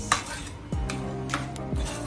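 Kasuri methi, dried fenugreek leaves, dry-roasting in a pan for butter chicken, heard as a few sharp metal clinks and scrapes of a spoon against the pan with little sizzle beneath.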